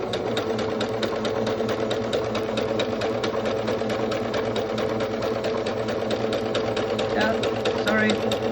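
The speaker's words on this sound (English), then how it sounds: "it's sewing nicely" A sewing machine stitches fabric with elastic thread for shirring, a rapid, steady mechanical clatter running continuously at close range with an even rhythm.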